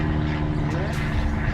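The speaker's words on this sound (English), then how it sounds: "it's just a plane, just a plane" A propeller airplane drones past overhead in a steady, fairly loud rumble that swells a little midway. The engine noise fills the whole moment, and someone talks over it outdoors.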